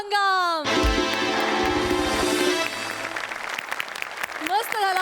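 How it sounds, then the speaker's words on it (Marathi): A studio audience at the Marathi comedy show Maharashtrachi Hasya Jatra breaks into loud, sustained applause after a performance, with music fading out and a voice briefly heard near the end. "जोरदार टाळ्या"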